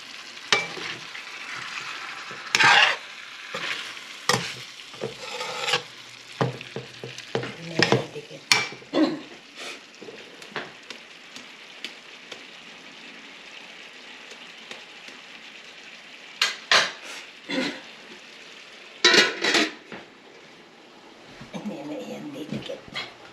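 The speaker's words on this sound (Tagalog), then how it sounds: "Inahalo lang po niya at baka manikit. Dumikit dun sa kawali." Food is stirred around a kawali frying pan with repeated scraping strokes that come in uneven bursts over a steady background sizzle, close and fairly loud, with no talking.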